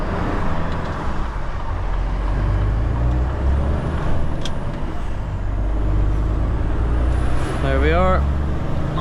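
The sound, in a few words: truck with air brakes pulling out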